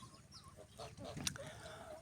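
White goslings peep and call in short, shrill bursts at close range, a few overlapping chirps over faint background noise.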